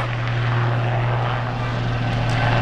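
An aircraft flies overhead at an airshow, a loud, steady engine roar that holds constant throughout with no voices.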